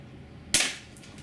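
A single sharp shot from a D-Boys KAR98 6mm airsoft spring rifle fired through a chronograph, a close, crisp crack that decays quickly against a quiet room background.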